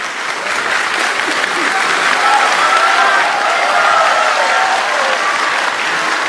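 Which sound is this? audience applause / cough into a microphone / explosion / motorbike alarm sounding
audience applause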